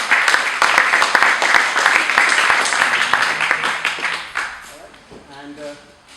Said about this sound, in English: a round of applause for these guys